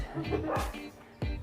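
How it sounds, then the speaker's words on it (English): A dog barks twice, short sharp yaps about half a second apart, close by, with a faint voice murmuring at the start. "Dog's barking."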